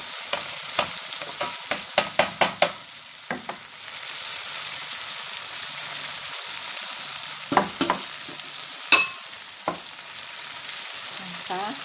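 Duck legs in orange sauce sizzle in a pan while being stirred, a steady frying hiss broken by a run of sharp utensil clicks and scrapes, close and alone without speech.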